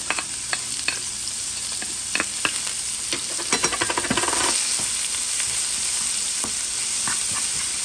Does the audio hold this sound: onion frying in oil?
yes